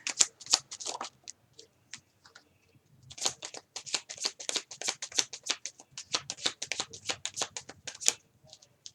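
Tarot cards being shuffled up close, with quick crisp riffles and snaps in clustered bursts, a brief pause, then a longer run of rapid card flicks.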